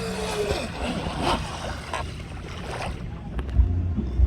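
A custom carbon fiber RC boat runs on water, giving a steady churning rush and splashing mixed with wind noise on the microphone, fairly faint and continuous for a few seconds.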